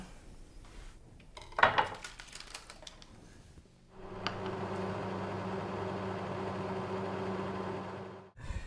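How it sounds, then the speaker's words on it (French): A microwave oven melting butter in a kitchen hums steadily for several seconds after a few clicks and clatters, then stops abruptly. "nous allons le mettre au micro-ondes pour le faire fondre"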